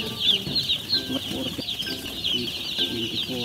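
Many chicks in a brooder cheep constantly in a dense, high-pitched chorus close by, while someone speaks briefly over them.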